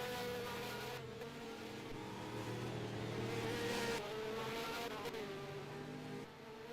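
Race cars on a track, with a Porsche 911 among them, whine loudly and steadily as engines rise and fall through several passes, layered and continuous with no speech.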